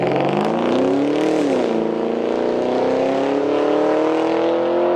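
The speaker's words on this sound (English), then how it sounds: "That car sounds so good." A car engine pulls hard and steady, rising in pitch as it accelerates, heard loud and close from inside or near the vehicle.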